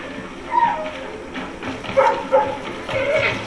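A small dog in the video game Assassin's Creed 3 gives a few short yips and whimpers in quick bursts, fairly close, over faint background ambience.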